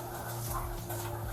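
Dogs whimpering and giving short barks nearby amid steady background noise, with no clear talk.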